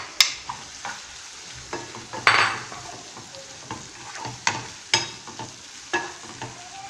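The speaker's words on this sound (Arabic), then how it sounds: "نزيد معاهم هذاك اللب اللي نحيته من الباذنجان المشوي، عبصته بالفرشيطه، نزيدو حتى هو يتقلى معاهم." Roasted eggplant pulp frying in a pan with minced meat, soft sizzling under repeated scraping and clinking stirring strokes, a spoon knocking the pan several times.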